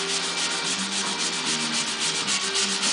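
Sander working across a fiberglass front-end mold for a 1955 Chevy, a steady close-up abrasive rubbing hiss with a pulsing rhythm, continuous throughout with no voices.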